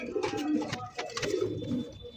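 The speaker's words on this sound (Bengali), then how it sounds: "খুবই সুন্দর একজন আপনার গিরিবাজ কবুতর পাইতেছেন" Giribaz pigeons cooing close by in a loft or market setting, several overlapping soft throaty coos repeating in bursts throughout.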